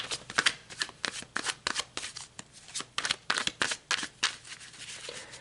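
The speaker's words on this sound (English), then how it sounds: "So let's pull some more cards." Tarot cards are shuffled close up in quick, crisp riffles and slaps, about a dozen sharp bursts over several seconds, with no talking.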